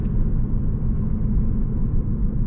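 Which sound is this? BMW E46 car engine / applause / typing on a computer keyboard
BMW E46 car engine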